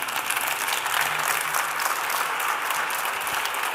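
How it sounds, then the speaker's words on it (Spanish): An audience gives a sustained round of applause at the Manka Tantay 2019 talk, clapping evenly and continuously throughout at a moderate distance. "Les pido, por favor, que este aplauso se extienda también a Sergio Sacchettoni"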